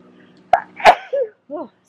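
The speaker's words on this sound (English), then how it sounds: "I need to sneeze" A single close, sharp sneeze from an adult with allergies, a short intake then an explosive burst, followed by a brief voiced exhale and a small vocal sound afterward, in a quiet outdoor yard setting.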